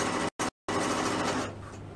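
Sewing machine stitching stretchy thread through the elastic of girls' leggings, a steady close mechanical whir broken by two short stops before running on.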